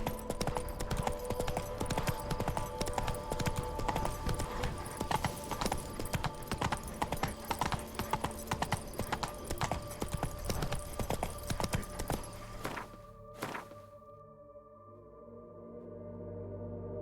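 Roach the horse trotting in The Witcher 3 Blood and Wine: rhythmic, even hoofbeats clop steadily and close for most of the time, then stop abruptly, leaving a faint ambient hum.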